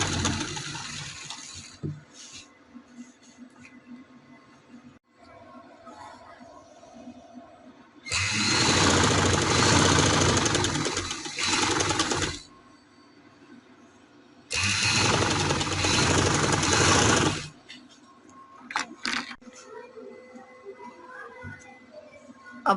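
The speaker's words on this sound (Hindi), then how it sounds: "अब हम इस साइड पे सिलाई लगाएंगे।" A sewing machine stitches boutique-style piping onto fabric, running in two loud, sustained bursts of several seconds each, separated by quiet stretches with faint handling noises.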